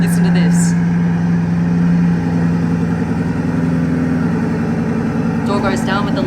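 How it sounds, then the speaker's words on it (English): A Bugatti Bolide hypercar engine runs at a close, loud, low rumbling idle with a steady throb, and a brief higher burst near the end. "Time to start the engine."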